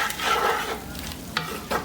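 Onions fry in a hot cast iron pan, a steady close sizzle broken by a few sharp stirring scrapes, with no talking.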